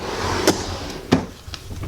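A makeup storage drawer slides open with a couple of quick wooden knocks and scrapes, close by and fairly clear, followed by a faint softer bump, with no talking.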